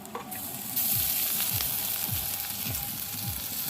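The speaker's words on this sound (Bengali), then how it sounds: "তারপরে এগুলো সুন্দরভাবে একটু ভেজে নেব। তার সাথে দিয়ে দেবো আদা বাটা।" Vegetables sizzle and fry in a pan with ginger paste, green chillies and five-spice seeds. The hiss stays steady and loud throughout, with repeated scraping stir strokes from a spatula or spoon.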